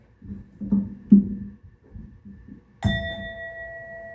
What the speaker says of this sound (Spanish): lo podemos transportar e ir tocando la campana mientras caminamos